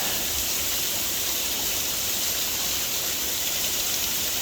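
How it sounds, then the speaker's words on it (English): A small waterfall along a hiking trail in the Ozarks pours as a steady, even rush of falling water, continuous and fairly close, with no voices over it. "Check out that little waterfall up in there."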